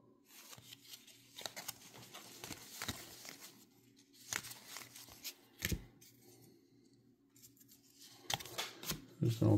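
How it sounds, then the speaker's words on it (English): Foil wrappers of 2024 Topps Series 1 trading card packs from a blaster box being torn open, with crinkling, rustling and card shuffling in short bursts up close while a person talks. "let's go to the next box here and start ripping them"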